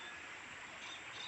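Fairly clean river flowing steadily, a soft continuous rush of water without breaks, heard faintly and alone.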